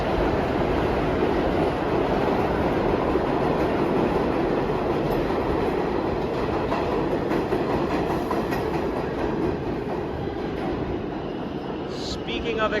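A New York City subway express train roars past close by, a loud steady rumble with rhythmic clacking of wheels on rail, easing slightly toward the end.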